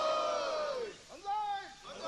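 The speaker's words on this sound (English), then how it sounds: "the Koen Kai, cheering him, the three banzais" A sumo supporters club cheers a wrestler with banzai shouts at the final day of the 2002 Nagoya tournament, a group of voices bellowing together in long, swelling calls, one after another, moderately distant in the hall.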